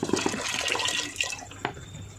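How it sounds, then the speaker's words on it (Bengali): Water pours into a pressure cooker for cooking tarka dal, a steady close splashing and gurgling stream that ends with a couple of brief clunks, with no talking. "নিয়ে নিয়েছি কুকারে, দিয়ে দিচ্ছি পরিমাণ মতো জল"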